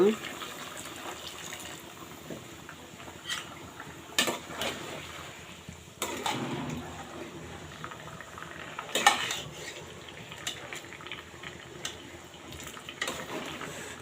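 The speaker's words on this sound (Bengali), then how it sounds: "এই তো গরম পানিটা আমি এখন দিয়ে দিব" Hot water pours into a pot of rohu fish and cauliflower curry amid clinking pans and utensil clatter, with a few sharp knocks along the way.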